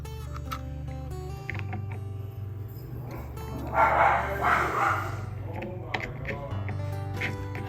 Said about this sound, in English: so sorry though, it's my dog's barking.